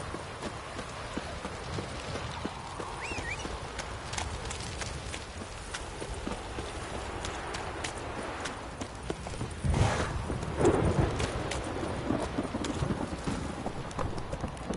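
Hooves of Roach, a horse in the video game Witcher 3, clip-clop steadily in a continuous run over rain-like ambient noise, with a brief louder burst partway through and no speech.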